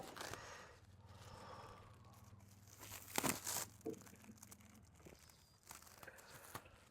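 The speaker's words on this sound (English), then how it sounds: "Okay, let's just peel off this wrapper." Plastic wrapping is peeled and torn off a new US General 42-inch Series 3 toolbox, giving close crinkling and tearing bursts, loudest in the middle, with soft breaths in between.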